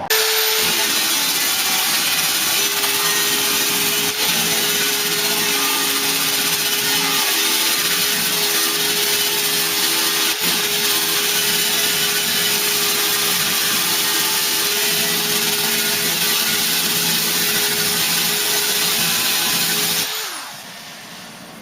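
A power sander grinds down weld on the steel bodywork of a Ford Cortina Mk3, a loud, steady whine with a constant tone running for about twenty seconds before cutting off.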